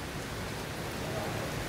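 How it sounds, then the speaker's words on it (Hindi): Steady broadband hiss of rain falling at an outdoor celebrity event, continuous and fairly loud throughout, with faint voices murmuring underneath. "बारिश में भी मतलब बारिश में काम है सर"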